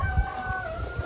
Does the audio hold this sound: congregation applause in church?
no